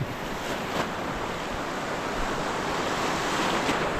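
Rough sea waves crashing on the shore at a fishing spot, a loud continuous roar of surf mixed with wind buffeting the microphone, no voices.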